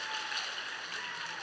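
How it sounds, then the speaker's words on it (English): Audience applause at a taiko drumming demonstration: a steady, dense wash of many hands clapping, fairly soft and distant, holding evenly for about a second and a half with no voices over it. "Round of applause."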